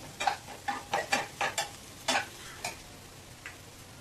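A paneer crispy mixture with cabbage is sautéed in a pan. A spatula scrapes and tosses in a quick run of rhythmic strokes, then slower isolated ones, over a soft sizzle.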